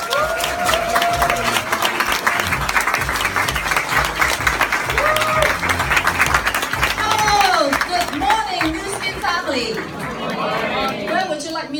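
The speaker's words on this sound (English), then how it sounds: "Let's give your loudest applause to welcome on stage" Applause and cheering from an audience welcoming a speaker on stage, loud and sustained, with crowd chatter and voices mixed throughout.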